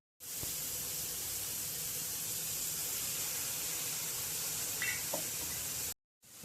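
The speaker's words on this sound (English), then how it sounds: "I'm gonna cook these onions until they get like translucent, turn like brownish" Onions cooking in a pan for vegan spaghetti give a steady, close hiss of sizzling that runs evenly for about six seconds, with a couple of faint clinks, then cuts off abruptly.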